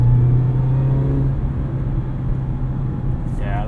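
A 2019 Mazda MX-5 Miata RF Grand Touring accelerating, heard from inside the cabin: a steady, fairly loud engine drone with a strong low hum that thins out toward the end, with no talk over it.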